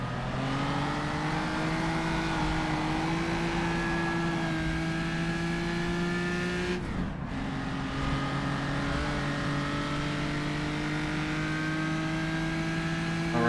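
A historic race car's engine in second gear on the Rouen road circuit in France drones loud and steady from the cockpit, its pitch holding then briefly dipping and climbing again, without any talk.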